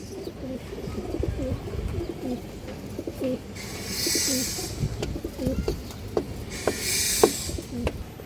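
Pigeons coo repeatedly nearby in soft, throaty bursts, with a couple of brighter hissing rustles and faint background noise.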